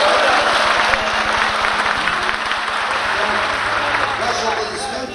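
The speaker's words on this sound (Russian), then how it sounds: "Ваши аплодисменты как согласие." Audience applause fills a congress hall of delegates, a steady loud wash of many hands clapping continuously throughout, with a low hum beneath.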